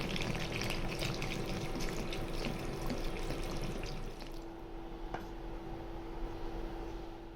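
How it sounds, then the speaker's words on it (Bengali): Water poured into a pan of hilsa fish curry cooking with taro on a stove; a steady, close pouring and trickling that runs for about four seconds, then quietens over a persistent hum. "এখন পানি দিয়ে দেবো।"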